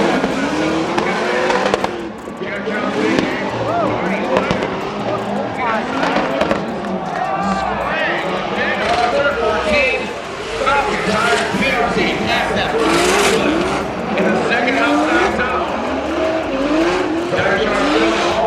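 A big-turbo BMW E46 M3 drift car at a Formula Drift event roars and squeals its tyres through a long slide, with crowd noise around it and a commentator talking over the top throughout.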